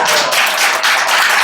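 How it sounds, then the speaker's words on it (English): Members of a Democratic club meeting clap together in a brief, close, dense burst of applause, steady and unbroken for a moment with no voices over it. "So do I hear applause on that?"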